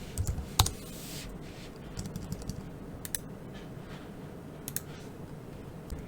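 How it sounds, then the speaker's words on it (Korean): Scattered keystrokes as someone types a chat message on a computer keyboard, a denser burst of clicks at the start and then sparse, fairly quiet taps over faint background noise; no one speaks. "대화를 작성하고 엔터키를 누르면 아이디인 닥터코와 우리가 작성한 대화가 출력됩니다"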